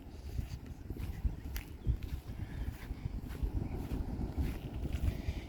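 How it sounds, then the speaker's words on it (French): A light breeze blows outdoors in Corsica beside a restaurant where a camper van is parked, heard as a continuous low rumbling buffet with soft gusts throughout and no talk. "Il y a un tout petit peu de vent"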